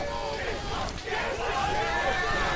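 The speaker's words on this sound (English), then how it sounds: "You hear the crowd." A wrestling crowd at a drive-in deathmatch show fills the air with a steady babble of chatter and scattered cheers and shouts, heard close around the ringside.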